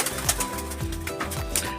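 Racing pigeons coo in repeated low, throaty rolling calls, several overlapping at close range against a busy background of other bird noises.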